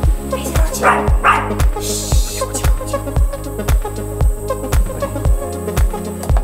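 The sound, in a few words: small dog barking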